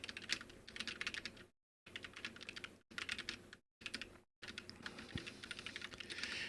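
Rapid typing on a mechanical computer keyboard, close and crisp clacking in quick bursts broken by a few abrupt silent gaps, with no talking.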